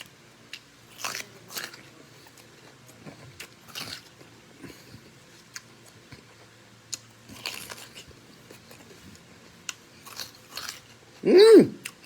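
Crunchy fresh farm food is bitten and chewed close to the mic in a series of short, sharp crunching bursts separated by quiet pauses, with a louder burst near the end.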